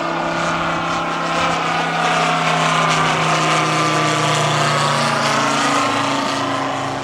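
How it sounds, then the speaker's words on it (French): A Moki 400cc radial engine on a 60% scale Bücker Jungmeister model airplane runs loud and close, a steady, rich propeller drone with strong harmonics throughout and no talk. "c'est un moteur Noki. Ah oui, Noki 400 cc, on l'a dit, c'est le plus gros présent ici"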